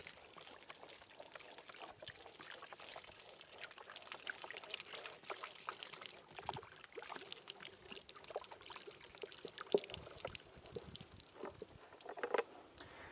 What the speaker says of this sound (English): If we open 6 up, and we dump the water out,